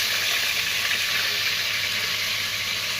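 Vegetable tempering crackling in hot oil in a home kitchen, a steady dense sizzle that holds loud and close for the whole stretch with no voices over it.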